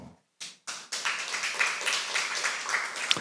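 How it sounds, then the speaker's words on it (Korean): An audience at a lecture on the stories of Jesus breaks into applause. A few separate claps come first, then a dense, sustained burst of clapping follows with no talk over it. "이건 저에게 치는 박수가 아니고 세례자 요한에게 치는 박수요"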